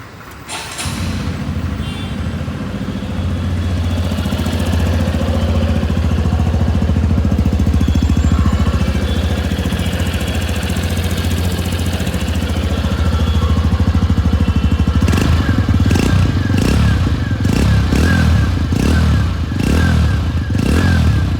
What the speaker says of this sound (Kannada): ಬನ್ನಿ ಎಕ್ಸಾಸ್ಟ್ ನೋಟ್ ನ ನೋಡ್ಕೊಂಡು ಬರೋಣ.